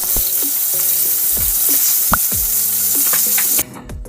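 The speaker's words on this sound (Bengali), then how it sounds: "মাছগুলো উল্টে পাল্টে লাল করে ভেজে নেব" Katla fish fry in hot oil in a pan, with a steady loud sizzle and crackle and intermittent clinks of a utensil turning the pieces, close up, until the sizzling drops away near the end.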